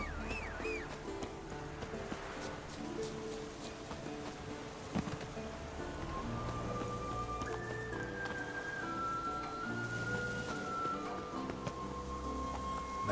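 Roach the horse galloping in The Witcher 3, a steady muffled rumble of hoofbeats beneath game music and ambient sound, continuous and moderately quiet.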